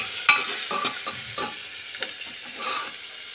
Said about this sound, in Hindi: गैस थोड़ा स्लो कर लें, इसको अच्छे से हिलाए।